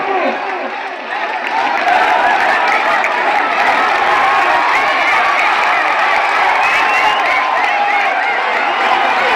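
A large crowd applauds and cheers steadily at a local football match in Wayanad, Kerala, between Thunder Boys Meenangadi and Gunners Chemrakkattur, a loud continuous roar of clapping with whoops.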